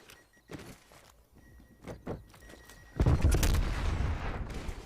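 Sniper rifle fire in a Call of Duty tournament match: a few sharp, separate cracks and thumps over quiet ambience, followed by a sudden loud, dense burst of noise that lingers to the end.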